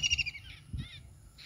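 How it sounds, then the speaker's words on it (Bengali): A bird calls in a short series of faint, high chirps spaced apart against a quiet village outdoor background with a cool breeze. "পাখি ডাকতেছে"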